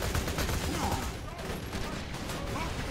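Turrets shooting in the game Borderlands 2, a dense, continuous rattle of rapid fire at moderate volume with a busy battle backdrop throughout the short stretch.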